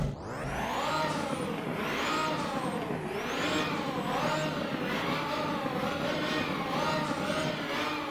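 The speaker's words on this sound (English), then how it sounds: "Put the car into neutral and let's rev this thing away." A car in the Roblox game Driving Empire revving in neutral, its high-pitched engine repeatedly climbing and dropping in a series of loud rising and falling sweeps with no talk over it.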